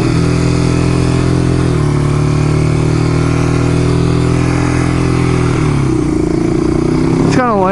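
Motorcycle engine idling unusually high, a loud, steady drone close by that dips slightly in pitch a couple of times before a brief rising rev at the end.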